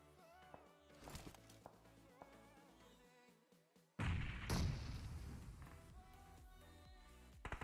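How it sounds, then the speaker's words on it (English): Grenade blasts in the mobile battle-royale shooter PUBG Mobile: a few sharp cracks early on, then a loud, heavy burst with a long rumbling tail that keeps thumping for several seconds. "And the nades are flying still in."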